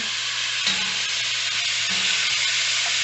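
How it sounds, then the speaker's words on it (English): Chunks of beef for bourguignon brown over high heat in a pan, giving a loud, continuous close-up sizzle with a few faint clinks of stirring, no talking. "we'll just get this first round of beef cooked. So it's nice and brown."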